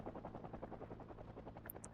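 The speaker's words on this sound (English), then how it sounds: "the helicopter pulls zombies in from a huge distance, right?" A helicopter flies overhead in the zombie survival game Project Zomboid, its rotor thumping in a fast steady rhythm, quiet and distant, with a couple of faint high blips late on.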